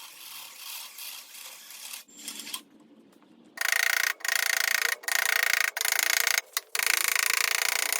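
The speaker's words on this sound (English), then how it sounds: "Drilling out spots for a couple of strain reliefs on the other end." A drill bites through a thin 22-gauge sheet-metal switch box clamped between square-bar jaws while holes are made for strain reliefs. A loud, harsh grinding comes in several bursts with short breaks between them, after some quieter handling noise.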